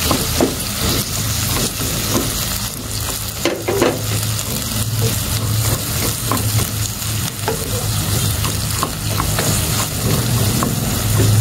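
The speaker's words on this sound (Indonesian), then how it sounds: "Kita tumis lagi." Chayote and carrot stir-fried with fish spices in a hot pan, a steady sizzle running throughout with repeated scrapes and stirring strokes, loud and close.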